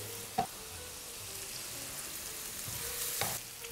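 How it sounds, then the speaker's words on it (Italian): A few basil leaves fry in hot oil for a pasta sauce with 'nduja and tomato, giving a soft, steady sizzle close by with a couple of light clicks of stirring. "ci metto anche subito nell'olio un paio di foglioline, due o tre foglioline di basilico"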